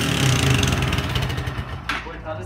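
A carbureted Honda VT motorcycle engine runs roughly and loudly at close range, revving and sputtering, with a voice speaking briefly over it.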